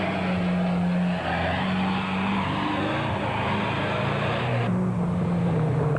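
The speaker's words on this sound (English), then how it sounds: "They were closely followed by Niels and Zelda van der Walt in the Nissan Hardbody, who had not yet given up the fight" Rally racing trucks, a Toyota Hilux and a Nissan Hardbody, run a Sun City 400 desert race, making a continuous loud engine roar with tyre noise and a steady drone that holds for several seconds, with no talk.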